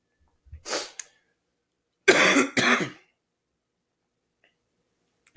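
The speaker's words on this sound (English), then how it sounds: "I was just waiting till you were done coughing." A short cough, then two louder, harsher coughs close to the microphone, followed by quiet.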